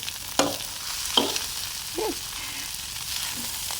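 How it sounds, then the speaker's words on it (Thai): Crab fried rice stirred in a pan, a few separate scraping strokes of the spatula with a faint sizzle running underneath, fairly close and with no one talking. "ข้าวผัดปูเนาะเอามาคนให้เบิ่ง"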